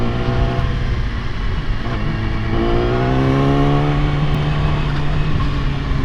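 A Yamaha R6 600 cc sport motorcycle revs loudly and close by, its engine note holding steady and then climbing in pitch as the throttle opens, with no voices over it.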